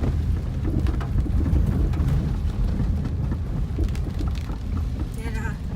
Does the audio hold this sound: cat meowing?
no